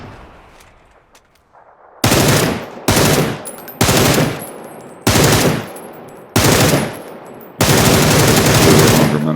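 Loud automatic gunfire from PUBG comes in about six sharp, close bursts after two quiet seconds of faint clicks, each burst a dense rattle of rapid shots and the last one running longest.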